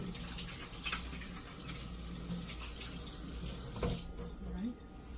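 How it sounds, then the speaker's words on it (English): Tap water runs steadily into a sink while hands are washed during rib preparation in a kitchen, a continuous close splashing hiss with a few brief knocks. "wash my hands so that I don't make a mess"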